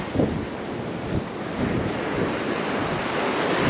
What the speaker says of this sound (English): but there's a beautiful breeze right now